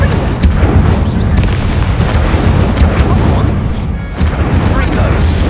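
Repeated Incendio fire spell blasts in a Hogwarts Legacy duel, loud booming bursts stacked over a dense rumbling din with combat clatter throughout.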